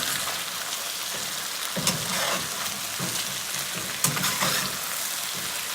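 Green onions being folded into mapo tofu with ground turkey, sizzling in a pan: a dense, even crackle of frying fills the clip, broken by a few soft scraping strokes and light knocks against the pan, close with no talk.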